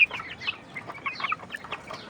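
Native desi chickens cluck in quick, soft, scattered bursts close by, a busy flock chatter with no voices.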